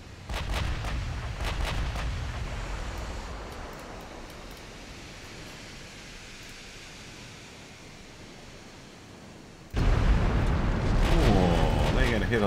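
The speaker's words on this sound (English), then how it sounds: "We are firing at the battlecruiser, right?" Warship guns firing at a battlecruiser in a naval video game: heavy booming blasts with a long rumbling roar, a second loud burst near the end, someone speaking over the gunfire.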